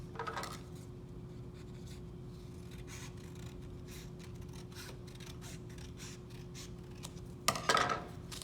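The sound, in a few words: scissors cutting paper for basket handle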